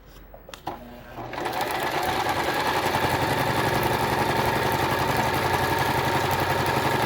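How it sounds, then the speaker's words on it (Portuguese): A sewing machine stitches fabric for a quilt block. After a brief quiet start, a close, steady, rapid mechanical chatter runs continuously to the end. "E venho costurando agora."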